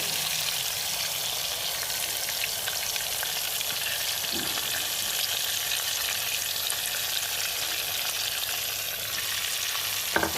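Chicken pieces sizzle and fry loudly in a pan as marinated masala is poured in and stirred, a continuous close crackling hiss that runs steadily throughout with occasional stirring scrapes.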